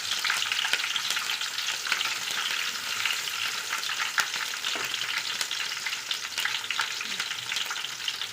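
Green chilies and mustard seeds frying in hot oil for a mango pickle, a loud continuous sizzle with steady crackle and occasional stirring scrapes, close up and with no voices.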